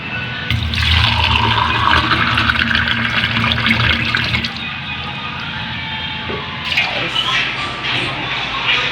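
Water is poured into a pot of rice for homemade sushi, a loud steady gushing stream for about four seconds that tapers to a softer trickle and then a brief splash near the end.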